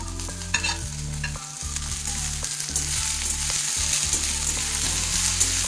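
Onions with green chillies and spring onion leaves fry lightly in a pan, a steady close sizzle under repeated rhythmic scraping and stirring of a spatula.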